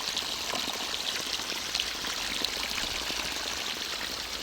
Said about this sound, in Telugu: ఇగో నీళ్ళు చూడండి ఎలా పోస్తున్నాయో, అన్నీ ఒకే రకంగా పోస్తున్నాయి చూడండి.